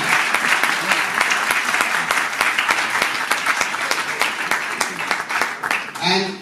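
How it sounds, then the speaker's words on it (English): Loud, sustained applause and clapping from an audience at a festival announcement event in Mumbai, dense and continuous throughout. "give a big round of applause for these two individuals"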